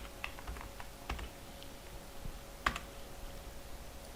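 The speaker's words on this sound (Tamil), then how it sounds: "ஜனவரின்னு டைப் பண்ணுறேன்" Computer keyboard keys typed in short irregular bursts of light clicks, close and fairly quiet, with a faint steady hum underneath and no talking.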